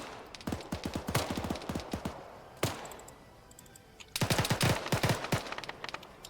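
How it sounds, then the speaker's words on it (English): In an Arma 3 close-quarters town fight, gunfire punches through a wall in rapid automatic bursts of sharp cracks, with a pause before a second dense volley, fairly close and loud. "Oh, they're just shooting through the wall."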